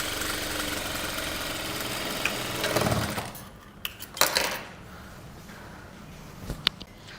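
A sewing machine stitches the side seams of a boat neck kurta in a steady whirring run that fades out partway, followed by scattered clicks and handling knocks.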